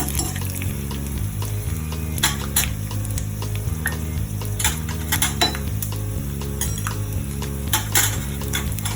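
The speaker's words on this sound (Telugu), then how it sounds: "రెండు టేబుల్ స్పూన్ల వేరుశెనగలు. ఇవన్నీ బాగా ఫ్రై కావాలి." Peanuts fry in hot oil in a pan for tamarind rice, a steady loud sizzle with frequent clinks and scrapes of a stirring spoon against the metal.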